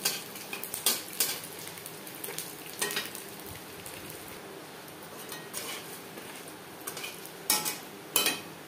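Dried red chilies crackle in hot oil in a pan, a soft steady sizzle with scattered sharp pops and a few clinks of a spatula, close by and unaccompanied by speech.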